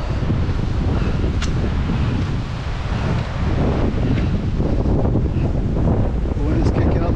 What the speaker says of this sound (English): The wind is kicking up a little.